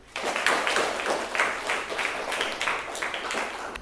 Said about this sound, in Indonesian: Oh ya, beri tepuk tangan dulu.